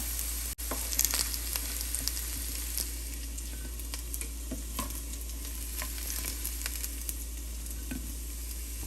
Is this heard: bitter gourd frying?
yes